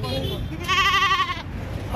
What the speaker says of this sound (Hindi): ये बकरा जा रहा है